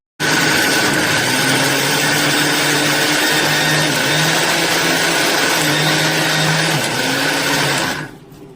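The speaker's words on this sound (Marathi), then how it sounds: "आता हे आपण थोडं थोडं मिक्सरला लावून घ्यायचं" A kitchen mixer grinder whirs loudly and steadily for about eight seconds, grinding a mix of dry dates, coconut and jaggery for laddoos, then winds down abruptly at the end, close up with no talking.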